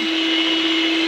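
An electric mixer whirs cheesecake batter with a loud, steady motor drone and a constant pitch, close by and with no pauses.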